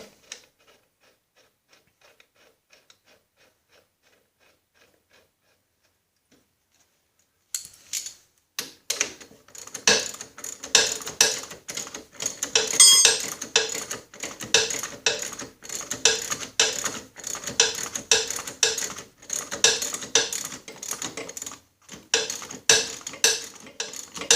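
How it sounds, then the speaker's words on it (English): A ratchet tightens the big nut on the clutch hub of a Snapper rear-engine rider mower deck. After a few seconds of near silence, close, loud rapid clicking runs on in quick bursts. "And put the big nut back on."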